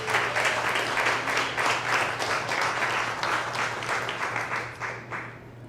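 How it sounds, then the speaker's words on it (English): At an HCA press conference, a gathered audience gives a round of applause, steady close-up clapping with a low hum underneath that tapers off slightly toward the end. "we give them a round of applause as we get ready to receive them on October 11th"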